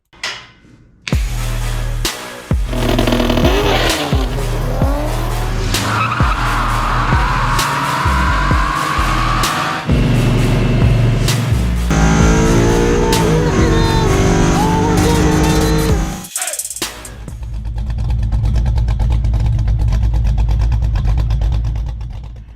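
A brand new 2023 Ford F-150 pickup engine runs close by at a steady, loud drone with shifting tones, cuts off abruptly, then a quieter rumble returns, with a voice briefly heard at the start.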